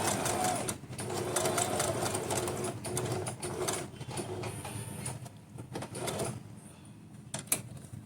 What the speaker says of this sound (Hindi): डबल सिलाई कर लेना। ठीक है, इस तरह से सिलाई करते हुए